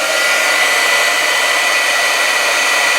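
A heat embossing tool blows hot air to melt embossing powder on a handmade card, producing a loud, steady, hissing whoosh that holds constant from start to finish.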